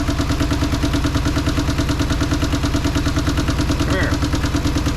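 Toyota 3.3-litre V6 idling close by after a timing belt replacement, a loud steady low rumble with an even pulsing beat that continues without a break.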